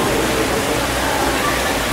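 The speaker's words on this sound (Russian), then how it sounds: "Здесь есть водопады" Waterfall splashing inside an aquarium, a steady dense rush of falling water filling the clip evenly at close range with no break.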